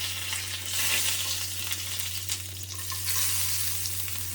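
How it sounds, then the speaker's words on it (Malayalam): Curry leaves crackle and sizzle in hot oil just after mustard seeds have popped, a steady close frying hiss with a low hum beneath and no voices. "അങ്ങനെ കടുക് പൊട്ടിക്കഴിഞ്ഞ് നമ്മൾ കുറച്ച് വേപ്പില ഇടാൻ പോകണം"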